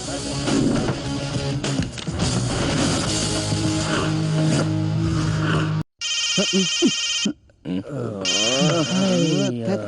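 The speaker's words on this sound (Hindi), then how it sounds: "भट्ट का फोन है" A telephone rings in a Hindi-dubbed action film scene, electronic ringing bursts cutting in after a stretch of loud music and dialogue, with short pauses between rings.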